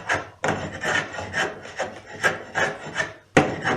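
A cooper's turpentine puller shaves grooves around the inside of a wooden bucket, giving a series of close, rasping wooden scrapes in short repeated strokes with brief pauses between them.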